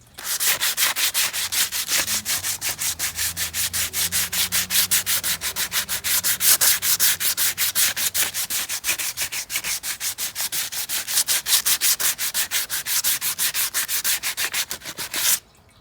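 Sandpaper scrubs the edges of a rustic outdoor log in quick, even back-and-forth strokes, loud and close, continuing steadily for the whole stretch with no voices, then stopping abruptly.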